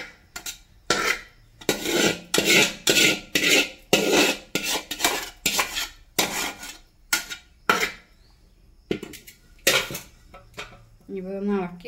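Rice for a mandi is stirred in a pot on the stove, giving a run of loud, rhythmic scraping and clattering strokes of a utensil against metal, with a voice briefly heard near the end.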